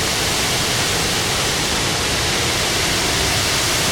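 Several waterfalls pouring into a grotto beside a river near Hilo, Hawaii, a dense, constant roar of falling water that fills the scene without pause.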